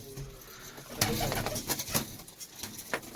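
Several pigeons coo close by in low, rolling calls, with occasional wing flutters and scuffling sounds mixed in.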